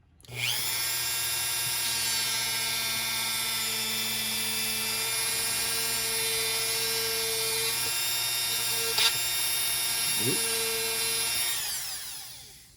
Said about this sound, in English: So got my Dremel, and